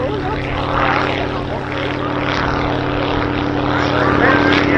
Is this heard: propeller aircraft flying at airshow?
yes